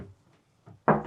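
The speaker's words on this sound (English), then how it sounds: "We've got a separate shower compartment, proper glass door." A proper glass shower door on a Galeon 480 Fly motor boat swings shut with a faint rattle before a firm, loud closing thud at the end.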